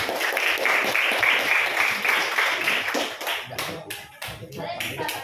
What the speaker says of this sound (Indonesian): beri aplaus untuk Rizky ya